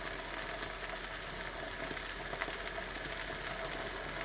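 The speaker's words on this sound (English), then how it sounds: "So the onions are ready and I'm just going to add the eggs." Eggs sizzle and fry with onions in a hot pan, giving a steady, faint crackling hiss with no voices.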